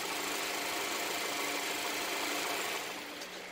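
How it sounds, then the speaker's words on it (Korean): A Chevrolet Impala 2.5 LT with an Ecotec engine idles quietly with a smooth, faint, even hum and slight ticking, heard alone. "엔진 소음 먼저 들려드리면은"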